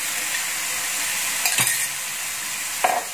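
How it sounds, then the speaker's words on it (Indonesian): Ground spice paste sautés in two to three tablespoons of cooking oil in a pan for soto kudus, a steady loud sizzle with two brief scraping stirs of a utensil against the pan. "saya akan tumis dulu bumbunya yang sudah saya haluskan tadi dengan sedikit minyak goreng"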